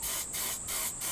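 Cleaner is sprayed onto a piston from a Yamaha 50HP four-stroke outboard engine in three short, evenly spaced hissing bursts from a trigger spray bottle, close and alone with no talk.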